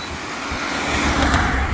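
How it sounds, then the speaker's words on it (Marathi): Road traffic rushing past near a tree on a roadside in hot afternoon conditions, a steady broadband hum of passing vehicles that swells slightly toward the end, with no talk. "गाड्या जातो इकडून रपसाप."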